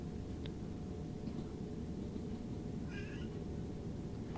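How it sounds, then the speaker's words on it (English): A house cat meows faintly in the background at about three seconds, a short two-part call set against a steady low rumble from a train simulator game. "you can probably hear the cat meowing in the background"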